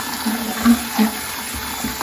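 Water is poured into a bucket of drywall texture compound before mixing with a drill, a soft, trickling splash with a couple of small sloshing bumps, fairly quiet and with no talk.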